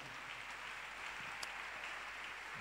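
A church congregation applauding in praise, a steady dense clatter of many hands sustained evenly throughout at moderate distance, with no voices standing out.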